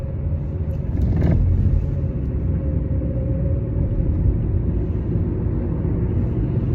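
A steady low rumble of a car driving, constant road and engine noise heard from inside the vehicle with no talking.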